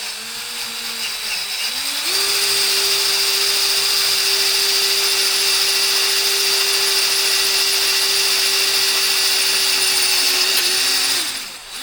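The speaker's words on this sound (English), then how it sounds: "We gotta drill this one." Power drill boring out a stuck set screw on a salvaged man-lift, a steady high motor whine that rises in pitch after spinning up and holds for about ten seconds before winding down, close and loud.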